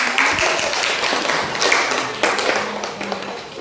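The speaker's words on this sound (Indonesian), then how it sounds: "Terima kasih, tepuk tangan dong." Pupils in a maths classroom clap for a group after its answer, a scattered, uneven patter of hands that runs steadily throughout at moderate loudness, with faint room noise underneath.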